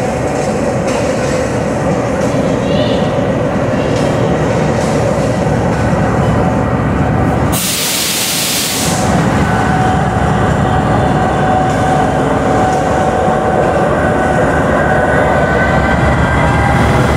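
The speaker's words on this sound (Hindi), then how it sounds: "और दूसरी तरफ कराची एक्सप्रेस की बोगीज भी आ रही हैं" Carriages of the Karachi Express roll steadily through rainy Lahore Junction, a loud continuous rumble of wheels and rail noise with a brief break around the middle before the rolling resumes.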